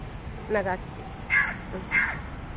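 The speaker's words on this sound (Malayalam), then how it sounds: "അപ്പോഴത്തേക്കും കാക്കി വന്ന് അതിനെ ഓടിക്കണ്" A crow caws three times in quick succession, harsh and fairly close, over a faint background hiss.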